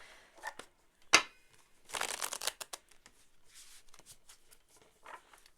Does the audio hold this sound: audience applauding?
no